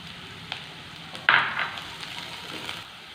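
Chopped beans sizzle steadily in a hot pan, with a sharper burst of frying partway through as the pieces are stirred, and no voices over it.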